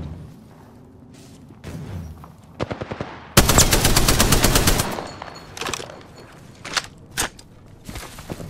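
Gunfire in the battle royale game Apex Legends: scattered single shots, then a loud sustained burst of rapid automatic fire for about a second and a half, followed by more sporadic close shots and clatter.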